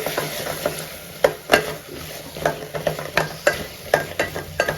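Dry fish curry cooking in a pan with brinjal and cut raw mango, giving a steady low sizzle broken by repeated sharp clinks and scrapes of a stirring spoon.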